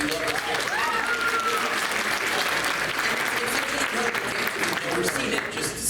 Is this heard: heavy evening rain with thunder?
no